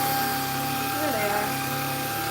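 A vacuum cleaner drones steadily and loudly near calmly sitting Bernedoodle puppies, a continuous motor whine with no break across the whole stretch.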